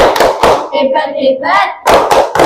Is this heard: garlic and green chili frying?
no